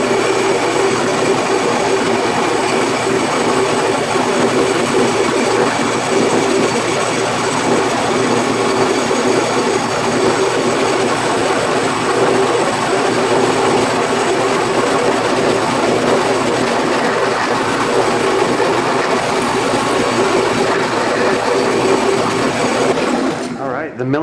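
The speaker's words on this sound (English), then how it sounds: "The milling's all done." A milling machine's end mill cuts a guitar frame, making a loud, steady mechanical whine and grinding roar that runs unbroken for over twenty seconds and cuts off abruptly at the end.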